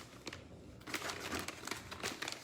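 Vinyl stencil slowly peeled off a surface, soft crinkling and crackly tearing in irregular bursts, close and quiet, with no talking.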